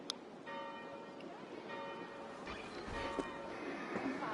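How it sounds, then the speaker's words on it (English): Church bells ring steadily in the distance in Assassin's Creed Valhalla, a sustained, resonant tolling heard faintly behind a soft ambient wash. "Do you not hear the bells?"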